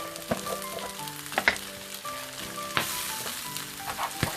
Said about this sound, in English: exploding chole there, careful of that